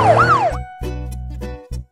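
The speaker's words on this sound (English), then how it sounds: "that's a police car" A cartoon police car siren wails loudly in a rising and falling sweep, then cuts off into a few short, honking electronic blasts with pauses between them, alone without talk.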